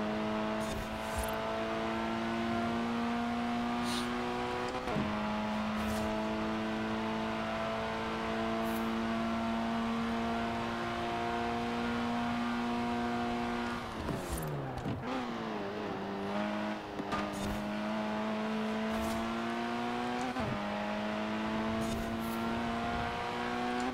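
Racing car engines in Forza Horizon 4 rev steadily and loudly, their tones shifting up through the gears, with a sharp burst of gear changes and sweeping pitch around the middle before the drone settles again; no one speaks.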